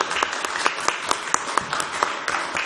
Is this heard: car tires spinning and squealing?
no